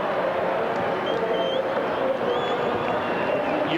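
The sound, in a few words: St Kilda fans celebrating grand final victory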